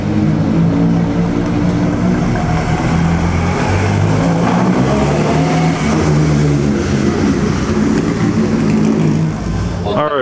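A four-cylinder Ferrari engine runs loud and steady, droning close by at the Mille Miglia, with other engine noise mixed in the background.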